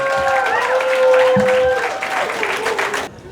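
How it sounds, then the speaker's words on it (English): A crowd at a mental health and addiction stigma event gives Yusuf a loud round of applause with some cheering and whoops, dense clapping for about three seconds before it abruptly drops away. "Give him a round of applause, everybody."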